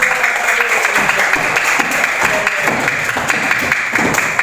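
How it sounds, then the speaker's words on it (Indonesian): Students in a classroom clap together as steady, dense applause that runs throughout, loud and close. "Tepuk tangan."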